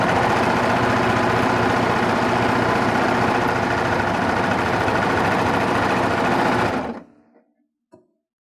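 A Baby Lock serger runs steadily at speed, loud and close, sewing a stitch for about seven seconds before stopping, followed by a single soft click.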